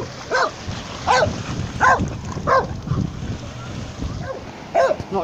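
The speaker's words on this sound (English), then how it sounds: "Stop barking, Ozzy." A dog barks repeatedly outdoors by the sea, about seven sharp barks at roughly even intervals over the sound of wind and breaking waves.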